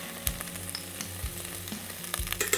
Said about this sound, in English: we're going to add some tomato paste to the vegetables